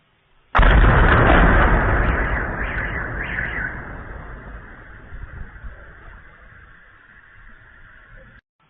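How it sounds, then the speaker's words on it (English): A single loud explosion from a Ukrainian drone strike in Russia's Kursk region erupts suddenly, then rumbles and decays over several seconds with crackling bursts and a lingering low roar, no voices present. "We've got an explosion in this video here from Ukrainian drones."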